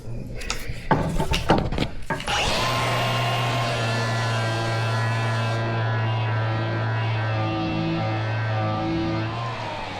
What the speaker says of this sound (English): I'm beveling these edges a little bit and sanding them.